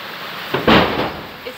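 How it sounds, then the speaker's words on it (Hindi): Heavy rain pours down during a Janmashtami celebration in Bihar. A steady hiss of rain is broken by a sudden loud burst, like a sharp thunderclap, that decays back into the downpour. "बहुत तेज बारिश हो रही है"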